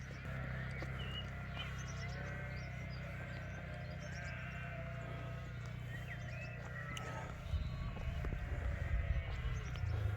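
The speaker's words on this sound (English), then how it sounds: "You can hear all the sheep and the lambs and that." Sheep and lambs bleating in a Scottish field, several distant calls scattered over steady outdoor noise, with a louder rumble near the end.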